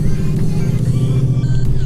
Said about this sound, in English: It has a strong throaty sound to it as well